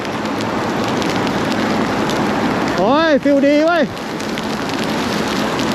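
Steady heavy rain hisses and patters around a NIU MQi GT Evo electric scooter on the road, loud and continuous, with a man briefly exclaiming midway.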